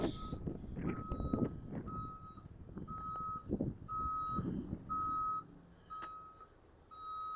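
A truck's reversing alarm beeps over and over at an even pace, loud and close, with engine rumble and traffic noise underneath, on a downtown Regina street in February.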